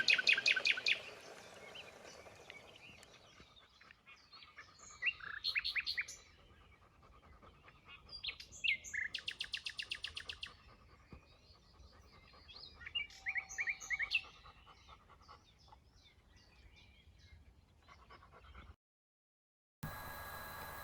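Nightingale song outdoors along a river cycle path, bursts of varied chirping phrases separated by pauses, fairly faint and distant, with no talk.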